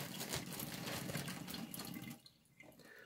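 Tap water runs steadily onto cotton wool wetted for shoe polishing, a close splashing flow that cuts off abruptly near the end, leaving a few faint drips.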